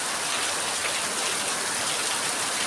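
Heavy rain pours down steadily on a rainy day, a dense, even hiss of drops close by with no break or change.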